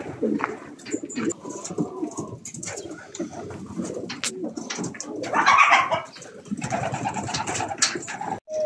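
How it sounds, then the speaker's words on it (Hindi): Large white pigeons coo softly among scattered wing flutters and bird calls, with someone talking over the flock throughout. "बहुत बड़े बड़े कबूतर हैं वाइट।"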